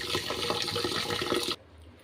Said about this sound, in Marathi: स्वच्छ धुवून घेते मी एक दोन वेळा पाणी स्वच्छ येईल